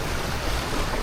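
Rough sea with strong waves off the coast during a fishing trip, heard as a steady, fairly quiet wash of surf and wind rumbling without any voices.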